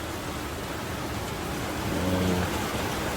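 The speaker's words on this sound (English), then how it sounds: "It's raining right now, but we're going to let that thing sit." Steady rain falls outdoors beside a 4300 International truck left to sit during DPF filter cleaning, a continuous hiss that swells slightly louder toward the end, with no voices.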